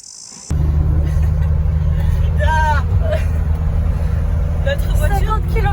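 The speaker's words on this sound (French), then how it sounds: "Notre voiture 50 km/h en pleine montée." A car engine drones steadily and loudly while climbing a hill at about 50 km/h, a constant low rumble filling the cabin, with voices talking over it throughout.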